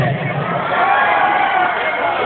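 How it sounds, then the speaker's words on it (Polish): A festival crowd at Juwenalia student days in Rzeszów claps and cheers in a dense, steady roar that fills the whole stretch, loud and close, with no pause. "Oceniamy brawami Katuszkę Paulinę. Bardzo duże brawa."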